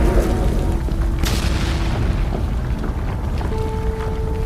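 A deep, rumbling explosion boom that rolls on and slowly fades, with scattered crackling debris and a brief tone near the end.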